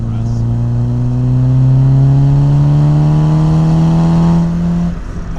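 A 1987 Mercedes 190E 2.3 driven hard: loud, close engine note with a rising then falling pitch as it brakes into a corner, running steadily before easing off near the end.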